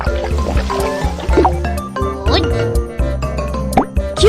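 An egg is cracked into a pan as a cartoon cooking effect: a string of wet plops and squelchy pops, close and lively, with a voice-like chirpy overlay throughout.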